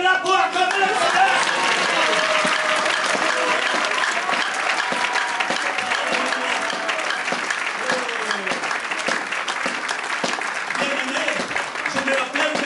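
A church congregation applauds and cheers to acclaim the Lord, dense sustained clapping filling the hall throughout, with voices and singing mixed underneath.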